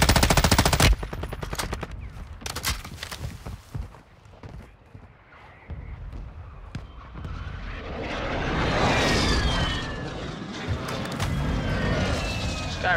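Video game gunfire from incoming rounds, rapid machine-gun bursts and scattered shots early on, then a dense roar of aircraft and distant shooting building up, loud and continuous.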